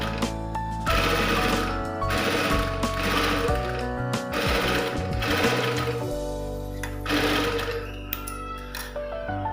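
A sewing machine with a single-sided presser foot stitches invisible piping onto cloth, running close beside the thread. It whirs in several steady close bursts with short pauses between runs.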